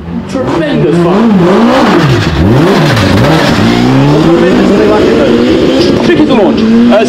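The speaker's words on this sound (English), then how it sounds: "Tremendous fun! Tricky to launch. It's a Ford base engine," A four-cylinder Ford-based race car launches at a concours of elegance, its engine revving hard in rising and falling sweeps, then pulling into sustained loud acceleration close by.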